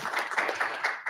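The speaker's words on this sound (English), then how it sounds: "Can we get a little round of applause for student speakers?" A brief, light round of clapping from a small audience at a school board meeting, honouring student speakers; the scattered claps are steady and close for about a second.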